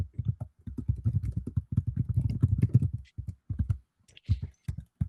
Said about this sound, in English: They are typing so loud.